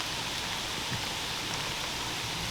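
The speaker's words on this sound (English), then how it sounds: "I guess I shouldn't say heavy, but like freezing rain." Dense, even hiss of freezing rain pattering steadily on surfaces all around during a whitetail deer hunt in Ontario, constant and fairly loud with no pauses or voices.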